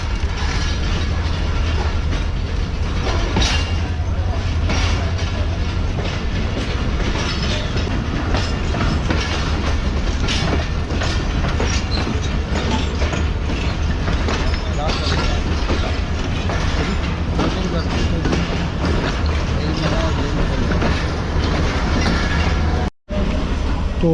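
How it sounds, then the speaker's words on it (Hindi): The Karachi Express rolls up to platform 3 at a Pakistani station with a loud, continuous rumble and rhythmic clickety-clack of wheels over rail joints. Faint metallic squeals come and go, some voices sound under the noise, and the sound cuts out briefly near the end. "ये कराची एक्सप्रेस जो है हमारे सामने वो प्लेटफॉर्म नंबर 3 पर अप्रोच बना रही है।"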